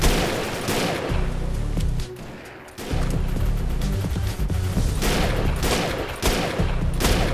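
Rapid, loud gunfire rattles in dense bursts in the video game Defiance as a player repeatedly shoots a minigunner enemy, with brief pauses between volleys and no talking.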